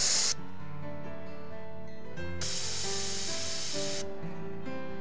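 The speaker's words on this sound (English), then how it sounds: "Press the trigger with a short test burst." A short test burst from a can of bear pepper spray, a sharp hiss that cuts in at the start, stops, then a longer loud hissing spray burst follows for a couple of seconds before stopping again.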